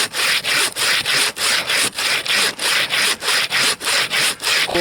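Bow saw blade cutting through frozen wood in extreme taiga cold, a steady rhythmic rasp of about a dozen even back-and-forth strokes, close and loud, with no voices.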